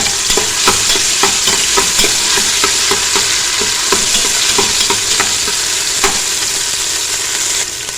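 Continuous loud sizzling of ginger garlic paste frying in a hot pan, with steady rhythmic scraping and clinking of a spoon stirring throughout. No voices.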